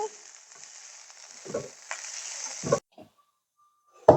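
Ginger and garlic sizzle in hot oil with a soft, thin crackle, broken by a few sharper stirring bursts before cutting off into near silence.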